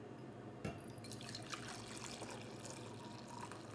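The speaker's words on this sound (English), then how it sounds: "Pour into your mug this deliciousness, just like I'm doing." A hot drink pours steadily into a mug, a faint, continuous trickling splash with a small clink near the start, heard close with no talking.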